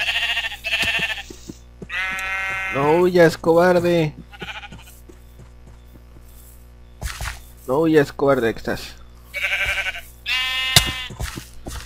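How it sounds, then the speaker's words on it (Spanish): Minecraft sheep bleating in short wavering bursts, several separate calls spaced across the stretch, close and clear, with someone talking in between. "Oye, ¿hasta dónde tengo que venir por una simple oveja?"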